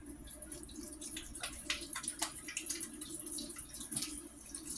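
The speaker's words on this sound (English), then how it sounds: "I'm going to wash my hands, get all of that oil and dough off of my hands." Tap water runs and splashes faintly as oily bread dough is rinsed off hands at a kitchen sink, a soft continuous patter with small drips.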